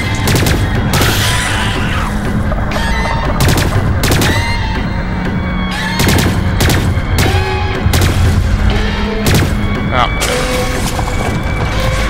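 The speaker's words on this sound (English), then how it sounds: "Light you up all day with my brand new post rifle action." Rifle gunfire in the video game Lost Planet 3, with loud, dense bursts of rapid shots and booming impacts filling the scene, while a voice talks over the constant shooting.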